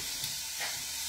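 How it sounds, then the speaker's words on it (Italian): Breaded zucchini flowers frying in hot oil give a steady, continuous sizzle with a few brief swells, close and fairly loud, and no one talking. "e andremo a friggere i nostri fiori"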